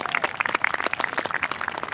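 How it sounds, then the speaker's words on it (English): Applause for a troupe of Roman re-enactors at an outdoor castle display, a fairly faint, steady patter of many hands clapping with no talk over it. "Give them a big round of applause."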